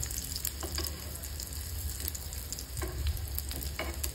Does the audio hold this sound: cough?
no